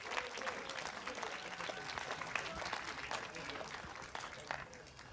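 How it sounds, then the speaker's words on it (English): Sustained applause from an audience at a school band concert, a steady wash of clapping hands that continues for several seconds without pause. "Let's give those students a round of applause for pins."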